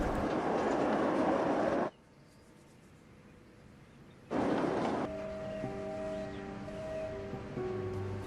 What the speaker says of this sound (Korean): 그때 생각보다 열차가 빨리 다리를 향해 오고 있습니다.